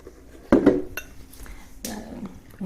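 A utensil stirs bran muffin batter with buttermilk in a bowl, giving a few sharp clinks and scrapes against the bowl separated by quieter pauses, close and clear.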